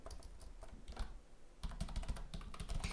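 Close, quiet clatter of keys on a computer keyboard, a short burst of taps followed by a faster, denser run of keystrokes, with no voices.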